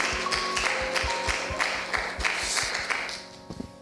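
A church congregation claps at a New Year's Eve worship service, with sharp, uneven hand claps in a steady run that thin out toward the end.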